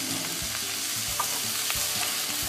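Vegetarian chow mein stir-frying in a frying pan with soy sauce, a steady loud sizzle throughout and soft scraping stirs repeating every half second or so, with no voices.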